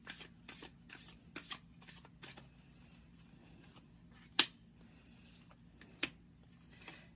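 Oracle cards being shuffled for a tarot-style reading, a run of soft riffling bursts and taps with a couple of sharper snaps, close and alone with no talk.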